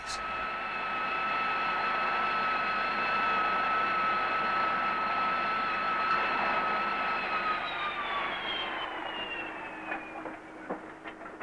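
A Harrier jet makes a vertical landing and rolls forward, its steady loud whining roar with high turbine tones sustained, then the pitch slides down and the noise thins as it settles.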